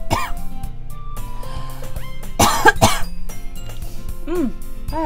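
A harsh, raspy cough bursts out loudly in the middle of the game Doki Doki Literature Club, set against ongoing background music and voice-like sounds.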